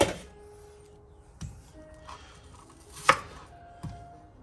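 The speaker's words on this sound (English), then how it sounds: "I like a nice chunky onion in my soup, so I'm just going to cut them up nice and chunky." A knife chopping onions into chunks for homemade potato soup on a board: a few separate, well-spaced thuds and taps with quiet gaps between them, close and moderately loud.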